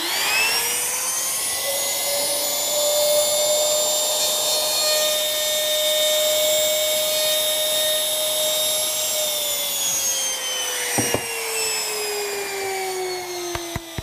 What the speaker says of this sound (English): Let's wait until that router stops so I don't put my hand anywhere near it.